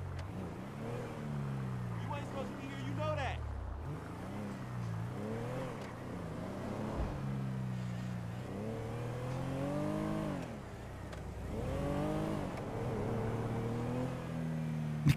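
A car engine in a roleplay driving game drones and rises and falls in pitch as it revs and accelerates, steady and moderately close, with people talking over it.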